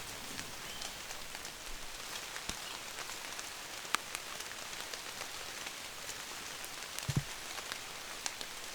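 Rain falls in an outdoor hunting spot, an even, fairly quiet wash of pattering drops with scattered louder hits and a couple of brief knocks, no one speaking.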